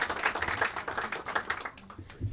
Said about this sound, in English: You can applaud. It's okay.